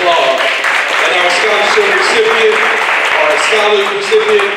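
An awards-ceremony audience applauds honoree Kenny Allen at a fatherhood awards event, sustained clapping mixed with voices and cheering throughout.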